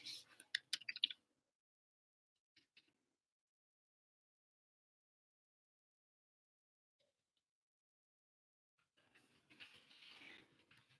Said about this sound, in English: y'all caught me in the midst of actually typing